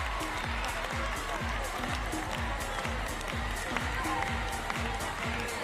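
Spectators at a Paralympic wheelchair tennis women's singles semi-final keep up steady applause, heard as a continuous wash of clapping with a distinct rhythmic pattern running beneath it and no pauses or sharp peaks.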